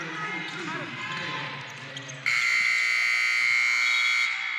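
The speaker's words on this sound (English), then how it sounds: "Konawa trying to get something here before the horn for the first quarter ends" A loud, sustained electronic horn sounds at a high school boys' basketball tournament game to end the first quarter, cutting in over crowd noise and lasting about two seconds.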